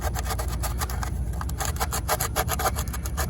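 Folded cardboard scooping and scraping soot debris out of a Cummins diesel intake, a dense continuous rasping and rubbing with quick repeated back-and-forth strokes, close and steady throughout.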